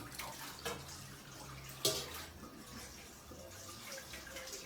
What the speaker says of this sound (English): you need to start washing your own plate now